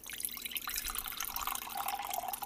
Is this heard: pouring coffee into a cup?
yes